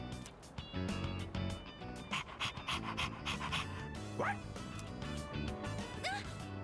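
A dog pants in the video game Persona 3 Reload, its quick steady breaths running under music and game sounds along with a few short yips or barks.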